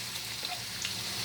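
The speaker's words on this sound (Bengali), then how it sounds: "এই আলুটা আমার অলমোস্ট ফ্রাই হয়ে এসছে" Potatoes frying in oil for a hilsa fish curry, a soft, continuous crackling sizzle heard close but quietly, with no voices.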